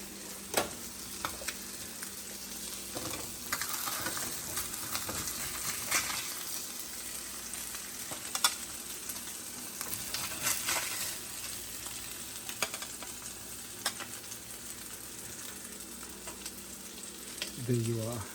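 Lemon garlic Basa fish fillets sizzle and fry steadily in a pan, a continuous crackling hiss with scattered pops and occasional stirring clinks, fairly quiet and without talk.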